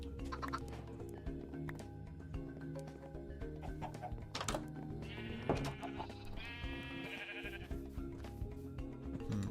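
Sheep bleat in a life-simulation breeding game, two drawn-out wavering calls in a row standing out over a busy, steady bed of background game sounds and music.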